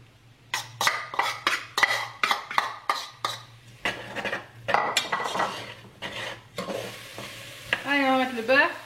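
Onions fry in a pan while a utensil scrapes and stirs them in a quick series of close strokes over a soft sizzle, with a brief voice near the end.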